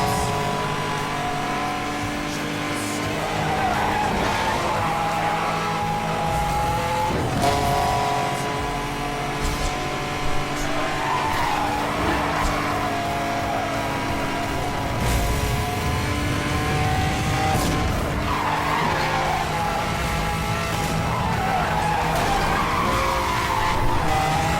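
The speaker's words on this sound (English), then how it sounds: "The car went a bit too wide when I did the second drift." A car drifting in the racing game Need for Speed Hot Pursuit Remastered, with a loud revving engine and repeated tire squeals through the turns, continuous and close with no talk.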